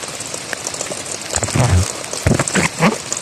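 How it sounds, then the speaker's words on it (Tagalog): Heavy rain pours steadily as a dense hiss, joined partway through by louder bursts of voices and knocks. "Grabe ang ulan. Lakas."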